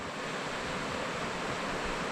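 River rapids on the French River rush continuously, a dense, steady roar of low, frothing water churning over rocks with no pauses, moderately loud and close.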